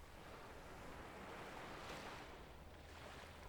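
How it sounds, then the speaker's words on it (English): Ocean surf washes in a continuous broadband roar with a gentle swell near the middle, steady and fairly close, alone with no voices. "Close your eyes. Listen to the waves."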